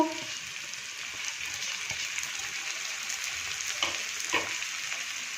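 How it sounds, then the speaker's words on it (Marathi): Onion frying with finely chopped capsicum and tomato gives a dense steady sizzle, broken by a few light stirring scrapes and knocks against the pan. "आता आपला कांदा छान परतून झाला की आता आपण याच्यामध्ये घालणार आहोत बारीक चिरलेलं शिमला मिर्च बारीक चिरलेला टोमॅटो"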